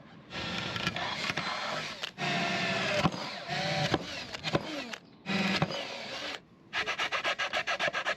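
Steady rasping strokes of a file on a metal deck fitting of a sailboat, repeated in bursts with brief pauses, close and fairly loud, ending in quick rhythmic strokes.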